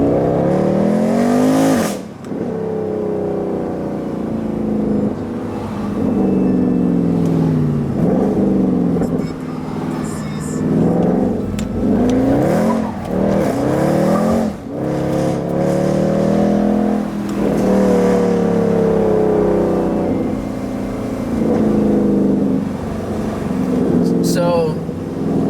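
A Mercedes-AMG C63 with the P31 development package roars close by, its engine repeatedly climbing through revs and dropping with sharp downshifts and crackles, rising and falling in waves while a person talks over it at times.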